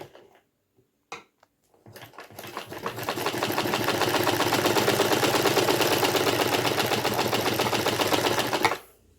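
A home sewing machine stitching the falls onto a washed and ironed saree, starting with a few clicks and then running steadily in a fast, even whir that stops near the end.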